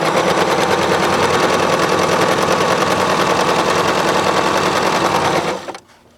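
Bernette b33 sewing machine running at a steady fast pace through fabric, a loud continuous close-up rattling hum that stops abruptly near the end.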